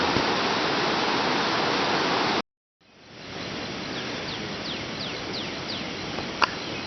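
Broad steady rushing of a high river running up after rain, continuous and fairly close, with a brief gap and faint bird chirps over the roar.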